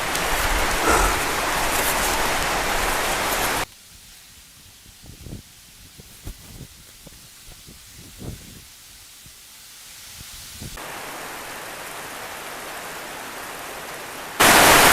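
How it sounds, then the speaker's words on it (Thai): Heavy night rain in a forest hisses steadily, fades to softer scattered patter with drips, then swells back to a dense, loud downpour. "ตอนนี้ฝนตกครับ"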